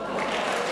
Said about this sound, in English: I love how everybody claps, as if he played it that way.